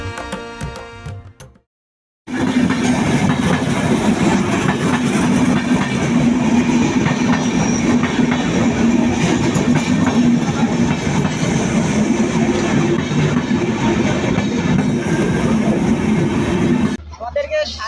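Chilahati Express train crossing the long Jamuna rail bridge in Bangladesh, a loud, steady rumble and clickety-clack of wheels that fills the scene after a brief quiet start, with voices faintly beneath.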